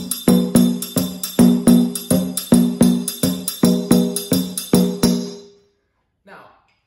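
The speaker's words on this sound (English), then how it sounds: "So when you play in this style, in this setup, it sounds like this." Kuku dunun rhythm tapped on pots and pans, about a dozen sharp metallic strikes in a steady, slightly uneven groove with ringing decay, loud and close, stopping before a faint final touch.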